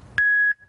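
A pool perimeter alarm gives one loud, piercing, steady electronic beep lasting about a third of a second, alone against near silence.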